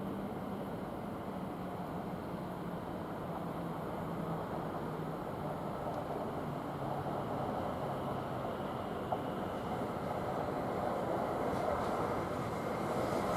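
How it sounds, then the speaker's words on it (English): A Class 720 electric train on the Ipswich to London Liverpool Street service pulls into Chelmsford station, giving a steady, even rumble and hiss that holds through the whole stretch at moderate distance. "we've got another train coming, which is from Ipswich to London Liverpool, which is the 12:40 service"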